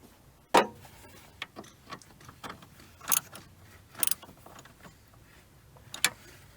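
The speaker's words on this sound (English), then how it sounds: "Now just tighten those 4 bolts up with your socket wrench." Socket wrench tightening four bolts on a VW T5 van, heard as sparse, sharp metallic clicks and ratchet ticks spread irregularly at close range in a quiet setting, with no one talking.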